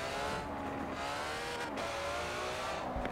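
A Ferrari in Forza Horizon 4, the fastest car in the game with a boost tune, engine roaring steadily at high revs with shifting pitch, loud and continuous throughout.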